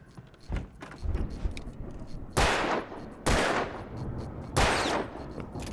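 Gunshots from the video game Alan Wake: a few sharp, loud broadband blasts spaced about a second apart, each with a short decaying tail, over a low ambient game background.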